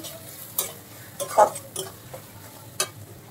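A spoon stirs ground coriander and other spices into dried fish (shutki) frying in a pan. A few distinct scraping strokes sound over a soft, continuous sizzle.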